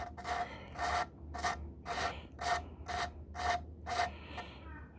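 Rhythmic rasping strokes as a Yamaha YZ250F engine valve is hand-lapped repeat about nine times at a steady back-and-forth pace, a close grinding scrape with brief pauses between each pass.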